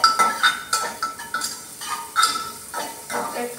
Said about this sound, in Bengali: গাজরটা একটু তেলে নাড়াচাড়া করে নিচ্ছি